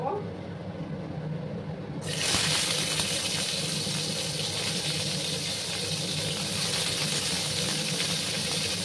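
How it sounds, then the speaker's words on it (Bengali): Bitter gourds hit hot oil in a pan with a sudden loud hiss that settles into steady, dense sizzling and crackling for several seconds. "বন্ধুরা, তেলটা গরম হয়ে গেছে। এবার আমি করলাগুলোকে ভেজে নেব।"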